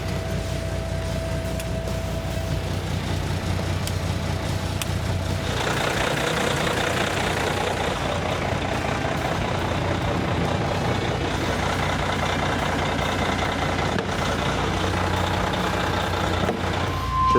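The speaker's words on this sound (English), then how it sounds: "we can go ahead and start the truck up and get it warming up" A semi truck engine fires up and settles into a steady, loud diesel idle to warm up, a close, continuous low rumble with no talk over it.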